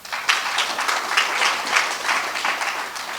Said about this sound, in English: I think let's clap for Purity